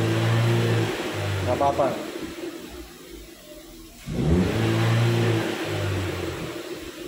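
A Chevrolet Spin fitted with a Blackcore Ultimate unit, its engine revved hard and held against the rev limiter in two long, steady bursts with a drop between them, while people talk close by.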